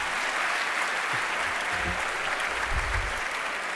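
Steady applause from a large crowd at a university engineering school presentation ceremony, dense and continuous clapping at a fairly even level throughout.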